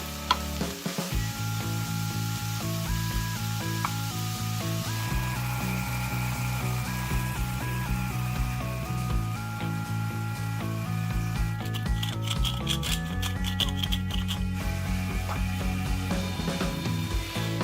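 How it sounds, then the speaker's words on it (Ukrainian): Mushrooms seasoned with salt and black pepper frying and being stirred in a pan, a steady close sizzle with scraping stir strokes running throughout, with music playing over it. "Перемішую і обсмажую до готовника."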